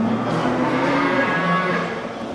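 A cow at a livestock market lets out a long, loud, close moo over the noisy crowd around it.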